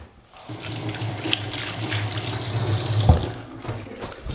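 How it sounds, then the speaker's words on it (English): Tap water runs steadily into a sink while a round potato is washed by hand, a close, continuous splashing stream with a brief heavier gush near the end. "So we have this round thing that we call a potato. We're gonna wash it."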